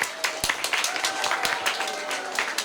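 Audience clapping for a prize winner at a school reading day, scattered hand claps forming a light, uneven patter, moderately quiet and somewhat distant.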